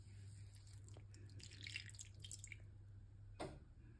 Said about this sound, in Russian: Вот наливаю воды.